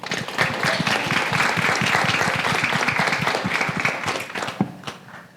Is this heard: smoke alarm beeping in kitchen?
no